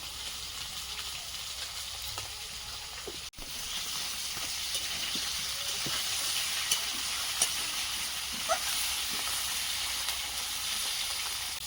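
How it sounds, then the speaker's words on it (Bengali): Bhetki fish bones fry in oil in a pan with a steady, close sizzle, broken by a few soft stirring clicks and one brief dip in the hiss partway through. "কাঁটাগুলো সব ভাজা হয়ে গেছে"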